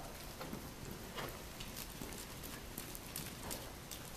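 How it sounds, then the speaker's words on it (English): A horse trotting during a riding lesson gives faint, rhythmic hoofbeats on soft arena footing, a quiet repeating clip-clop under a noisy, rain-like hiss of background. "keep pumping up that trot"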